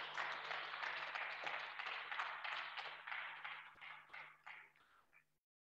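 Audience applause at a book discussion event, a dense wash of clapping that thins out toward the end into scattered individual claps before stopping.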